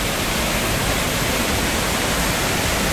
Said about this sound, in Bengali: জল নামছে।